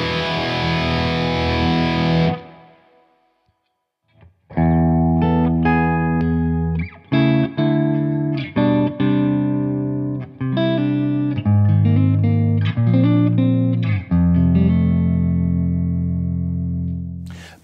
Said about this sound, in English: Let's take a listen to the V4 copper hooked up in 4 cable method with our V4 Kraken amp.